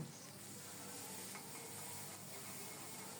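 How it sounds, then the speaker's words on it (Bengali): Onions fry in mustard oil, a faint, even hiss of sizzling that holds steady throughout with only slight stirring texture and no talk. "এদিকে সরিষার তেলে পেঁয়াজগুলো ভেজে নেব"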